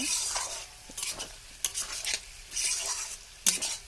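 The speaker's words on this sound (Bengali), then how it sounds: "এখানে চলছে ঝুরি আলু ভাজার পালা" Shredded potatoes frying in a pan, with bursts of sizzling and the scrape of a utensil stirring against the pan in an uneven rhythm, heard up close with no talking.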